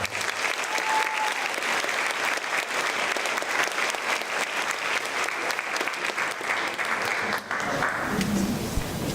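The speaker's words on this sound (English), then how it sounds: "So once again, give them a round of applause." Dense, sustained applause from a large audience honouring high school seniors at an academic awards ceremony, steady and loud across the whole stretch, thinning slightly near the end.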